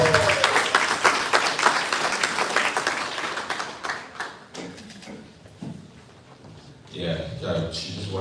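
Guests at a holiday reception and donor advisory board installation applaud: brisk, close clapping that tapers off into scattered claps, then a voice begins speaking near the end.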